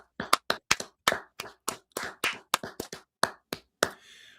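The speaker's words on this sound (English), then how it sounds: "can we get a 5-second hand clap for the Spurs coaching staff" A few people give a brief round of hand claps for a basketball coaching staff, about a dozen sharp, separate claps in an uneven rhythm, close and fairly loud, ending with a short soft rustle.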